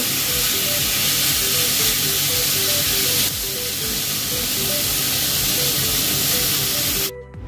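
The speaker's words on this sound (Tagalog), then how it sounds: "Tapos ilalagay na natin yung manok na tinimplan ko kanina." Seasoned minced chicken for sisig sizzles loudly in a hot pan, a continuous close hiss and crackle with bright spattering pops that dips slightly partway through and then cuts off abruptly near the end.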